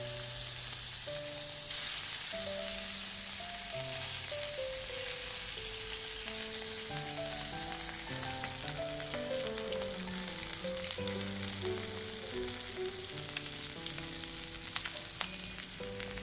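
Pieces of Bhigwan-style fish fry dropped into hot oil and frying over a low flame, giving a steady close sizzle that runs under background music throughout.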